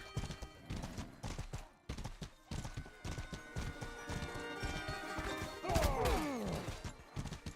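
Horse hooves clip-clop in a steady, busy rhythm at moderate distance, then a horse whinnies with a rising and falling neigh near the end, accompanied by a few thumps.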